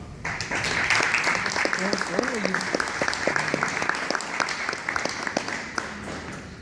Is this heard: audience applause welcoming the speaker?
yes